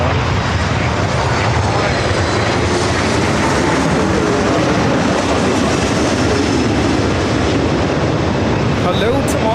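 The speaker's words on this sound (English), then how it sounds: "This arrival United 2610, the MAX 9 coming in from San Francisco" A United Boeing 737 MAX 9 airliner arriving at LAX produces a steady, broad jet engine roar that holds loud and constant throughout, with no clear rise or fade.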